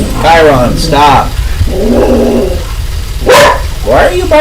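A pet dog named Chiron barks indoors in a few sharp, loud bursts, with people talking over and between the barks.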